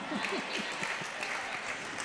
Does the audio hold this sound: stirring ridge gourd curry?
no